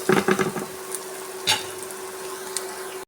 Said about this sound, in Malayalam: മഞ്ഞൾപ്പൊടി, 1/2 സ്പൂൺ ഗരം മസാല, കുരുമുളക് പൊടി 1/2 സ്പൂൺ ഇട്ട് നന്നായിട്ട് വഴറ്റി എടുക്കാം